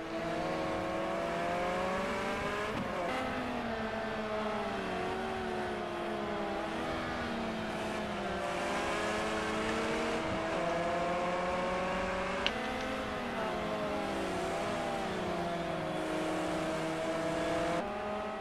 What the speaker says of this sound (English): Now Squid is driving away in 3rd place, and now Taipan's got to try and hold off Triple Rotor Racing